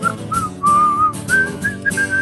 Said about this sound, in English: Everybody get your best whistle.